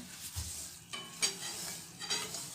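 Flour and ghee stirred and roasted in a pan for adadiya pak, a soft scraping stir with faint sizzling, a few louder scrapes standing out against steady low hiss, close and quiet, no talk.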